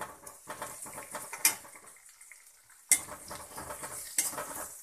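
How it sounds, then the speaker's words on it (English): Curry leaves dropped into hot oil for garlic chitranna crackle and sizzle in the pan, with a stirring spoon scraping and clinking against the metal several times, close and fairly quiet. "Now I am adding curry leaf."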